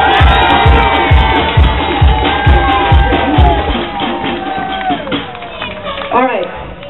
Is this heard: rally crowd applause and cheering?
yes